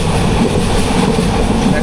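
Upokul Express running from Dhaka to Noakhali at about 70–80 km/h, a loud, dense and steady rumble of wheels and carriage noise heard from inside the train.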